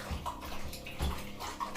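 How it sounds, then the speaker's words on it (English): Dishes being washed by hand in a kitchen sink full of water, with close sloshing and splashing in uneven bursts and occasional light clinks, no talking. "So back to the washing up."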